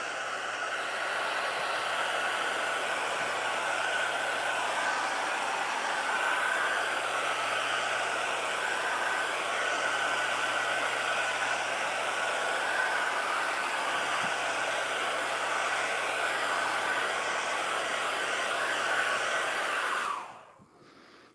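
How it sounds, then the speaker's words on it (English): A hair dryer drying watercolor paint blows steadily at close range with a constant whooshing hum for about twenty seconds, then switches off abruptly. "That's why I can use a hairdryer."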